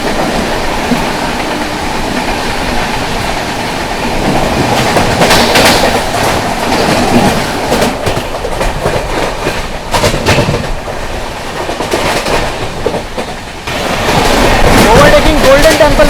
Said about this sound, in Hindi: सामने से आ रही है दोस्तों आप लोगों की मेवाड़ सुपरफास्ट एक्सप्रेस।